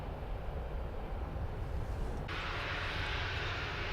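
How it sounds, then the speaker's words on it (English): A Ryanair Boeing 737-800 at Manchester Airport produces a steady, loud jet engine roar that swells brighter and higher partway through, continuous with no speech. "this Ryanair is a 737-800 going to Marrakesh"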